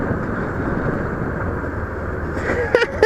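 Motorcycle ride recorded from the bike, a steady engine drone mixed with heavy wind buffeting on the microphone, with a few brief rattles and knocks near the end.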